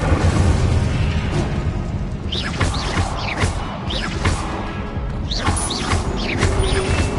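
Fire spell Incendio cast repeatedly in Hogwarts Legacy, a string of whooshing bursts and crackling blasts over a dense, steady game soundscape with no talk.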